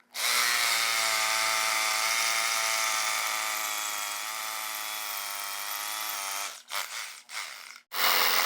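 A drill bores anchor holes into a concrete home garage floor for a two-post car lift, a loud continuous high whine that holds steady for several seconds, then stutters through a few short bursts before stopping.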